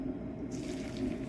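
Oil heats in a pan for tempering a green apple pickle, giving a quiet, steady bubbling sizzle with no talk over it.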